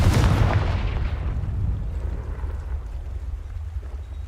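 In the Hogwarts Legacy video game, a Confringo fire spell goes off as one loud blast that booms at once and then rumbles away over a few seconds.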